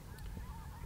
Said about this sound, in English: So there's been snow geese, Canadian geese, all kinds of ducks